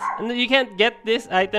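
A pet dog barks and yips in a series of short, loud, close barks and whimpering yelps while a person keeps talking over them.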